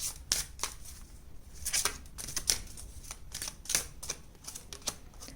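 Tarot cards are shuffled and drawn by hand in a run of crisp, quick snapping flicks and soft rustles. The sounds are close and fairly quiet, with irregular bursts of clicks.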